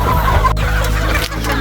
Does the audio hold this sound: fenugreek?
no